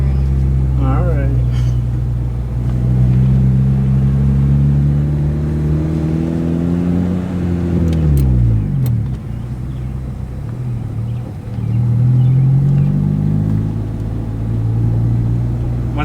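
A stance car with VTEC drives along, its engine droning steadily and then dipping as it shifts into second gear, the pitch falling and rising again, with a voice talking over the drive.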